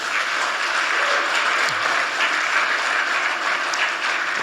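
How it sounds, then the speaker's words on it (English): Sustained applause from a large audience at a social business summit, steady and dense clapping for the full length, with no voices over it. "Let's give a big applause for our young people."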